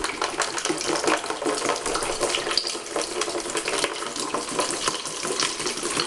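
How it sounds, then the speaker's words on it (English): A quart of hydrogen peroxide is poured into a bucket, giving a continuous close splashing, gurgling pour with no talk. "you're going to get 1 quart of hydrogen peroxide. Okay? And you're going to pour that into your bucket."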